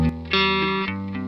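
Electric guitar played through a NAM A2 amp model on a Headrush Flex Prime with reverb switched off: a short distorted chord sequence, bright and sustained, close and dry.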